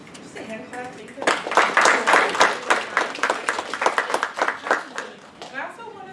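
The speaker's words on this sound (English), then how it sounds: "So I want to give him just a hand clap." An audience at an academic lecture on race, gender and education claps for several seconds, a dense burst of applause that fades as a voice speaks before and after it.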